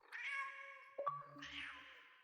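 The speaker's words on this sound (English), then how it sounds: "That's a cat." A cat in the video game Dark Nights with Poe and Munro meows twice, close and clear, the second call longer and drawn out, with a small click between them.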